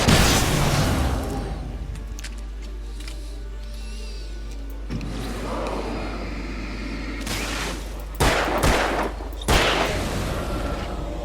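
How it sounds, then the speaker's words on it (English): Flare gun shots and gunfire from the video game Alan Wake ring out over a constant low game rumble, with sharp loud bursts clustered near the end. "flare gun again"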